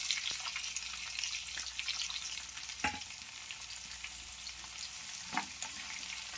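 Finely chopped onions frying in oil for a tomato-onion chutney, a continuous soft crackling sizzle with a few sharp utensil knocks against the pan, fairly faint and without speech.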